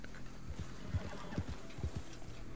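A horse in the video game Red Dead Redemption 2 gives a faint whinny while a run of clip-clopping hoofbeats plays close by. The hoofbeats are soft, irregular and low in pitch.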